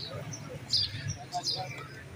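Pigeons at a bird market in Lahore: faint, brief chirps and soft calls scattered over a low background murmur of people.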